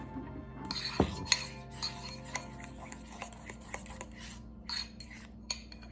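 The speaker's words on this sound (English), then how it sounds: "Scrape all of the gelatin off the sides" A utensil scrapes and taps around a bowl of gelatin egg batter, giving a series of light clinks and ticks, fairly close and without talk.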